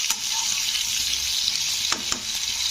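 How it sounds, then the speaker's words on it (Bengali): Potato pieces fry in hot oil in a pan for a Bengali neem jhol, a steady close hiss of sizzling with a few brief scrapes of stirring and no voices. "তো আলুটাকে একটু ভাজা ভাজা করে নেব"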